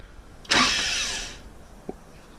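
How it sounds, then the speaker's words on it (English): A turbocharged Honda EG9 engine cranking over once, a short loud burst of starter whir that trails off within about a second, followed by a faint click. "Do a quick crank, like twice."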